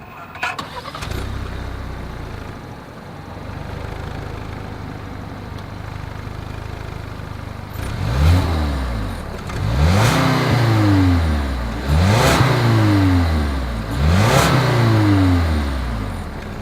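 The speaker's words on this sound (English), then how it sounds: "dual exhaust outlets with chrome tips, so you guys know what we have to do next. As always, here is that exhaust clip." A 2020 Lincoln Nautilus with dual chrome-tipped exhaust outlets cranks, settles into a low idle, then gets four sharp blips of the throttle, each rev climbing and falling back, recorded close at the tailpipes.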